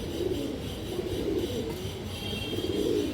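Pigeons cooing softly in a low, continuous murmur, several birds close by with overlapping throaty coos and no talking.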